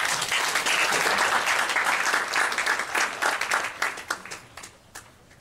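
An audience at a game developers' conference talk claps loudly and steadily, then the applause thins out and fades over the last couple of seconds.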